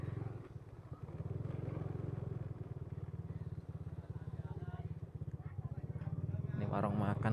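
A tractor engine chugging steadily along a mountain village road, its rhythmic low putter holding close and loud, then rising near the end as it passes, with faint voices in the background.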